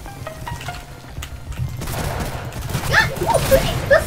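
Gunfire in the Roblox game Ragdoll Universe, a rapid fusillade of shots rattling through the clip with muffled game ambience and bursts growing louder toward the end.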